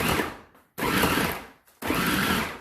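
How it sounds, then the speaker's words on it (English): A food processor pulses three times while chopping dumpling filling, each loud whirring burst of the blade separated by short silent gaps, close and up front. "That's a serious chopping there."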